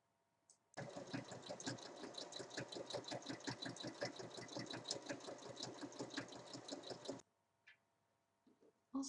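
A sewing machine runs steadily for about six seconds, stitching along the edge of a fabric book holder flap one millimetre in, with a fast, even rattle of needle strokes, close and loud, then stops.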